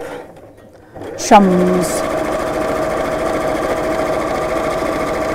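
A sewing machine stitches fabric, starting after a brief pause and then running as a fast, steady mechanical hum with a rapid needle rhythm, loud and close. A voice is briefly heard.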